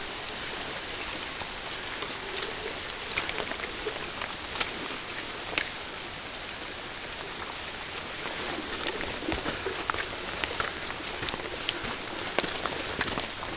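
Rain falls steadily on a cliff-line hiking trail, a soft continuous patter with scattered sharper drips and splashes close by throughout, and no talking.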